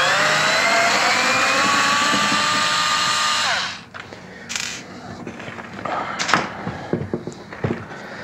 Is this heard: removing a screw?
yes